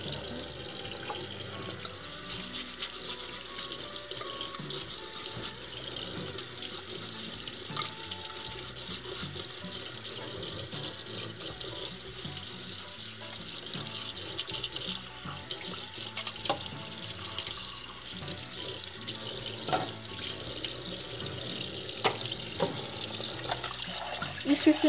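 Tap water runs steadily into a sink as parts of a Hurom H70 juicer's filter are rinsed, with faint clattering of plastic pieces being handled under the stream.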